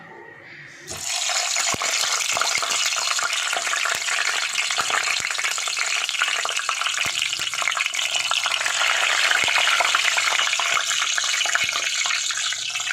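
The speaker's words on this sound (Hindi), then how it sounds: "अभी मैं इसके अंदर जो है टमाटरों को फ्राई करूँगी" Tomatoes frying in hot oil in a pan, a loud, steady sizzle that bursts in after a quiet moment and keeps crackling evenly throughout with no talk.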